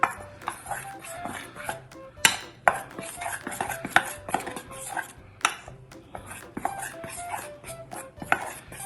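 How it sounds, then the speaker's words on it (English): A spoon mixing material in a bowl for a homemade snow project, with irregular clinks, scrapes and knocks against the bowl in quick uneven bursts, close and fairly distinct, without any talking. "I'm going to take my spoon and I'm going to mix this together."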